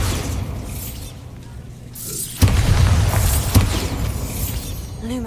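The Bombarda blasting spell goes off in Hogwarts Legacy with a sudden loud boom that rolls into a rumbling, crackling spread of debris over constant game ambience.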